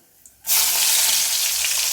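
After a brief quiet moment, a loud sizzle bursts out and holds steady as dried red chillies hit hot oil up close for a potato fry.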